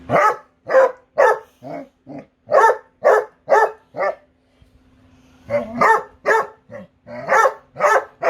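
Dog barking repeatedly in loud, evenly spaced barks across a short indoor stretch, with a brief pause midway before the barking resumes at the same pace; no one talks over it.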